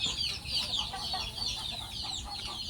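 Free-range village chickens cluck softly and steadily, a low, continuous farmyard chatter heard at a moderate distance without talk over it.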